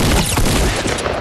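A dense, loud, continuous barrage of gunfire from the video game Fortnite, roaring without pause through a brief moment.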